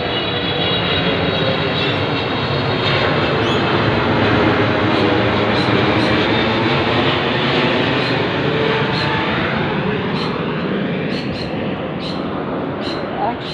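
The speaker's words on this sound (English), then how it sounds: "Here comes a patrol plane over my head, directly over my head as usual." A patrol plane drones directly overhead, a loud, continuous engine roar that holds steady throughout with little change in level.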